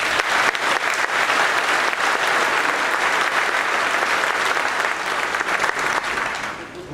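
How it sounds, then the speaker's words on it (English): Sustained applause from a large audience at a 2022 graduation commencement ceremony, honoring the graduates' parents; dense, even clapping fills the whole stretch at steady loudness before tapering slightly at the end. "A round of applause for our parents"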